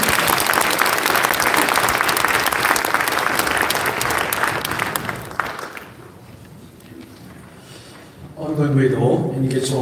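A congregation claps loudly and continuously at a church service commemorating the 105th anniversary of the March 1st Movement. The dense applause fades after about five seconds, then a voice speaks.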